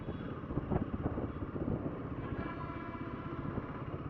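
A Royal Enfield Himalayan motorcycle cruising at about 100 km/h, giving a steady, loud engine drone mixed with heavy wind rush across the microphone, continuous throughout with no talking.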